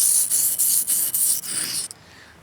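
Repeated rasping strokes of a knife blade across a cheap sharpening stone, about seven even passes in quick rhythm, close and fairly loud, ending abruptly with quiet after.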